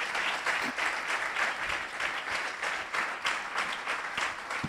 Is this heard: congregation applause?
yes